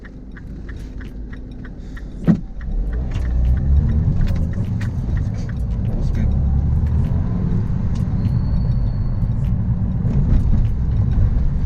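A Mini Cooper S R56 drives along a road, its steady low engine and tyre rumble filling the cabin, with a sharp knock early on and a brief spoken comment from the driver.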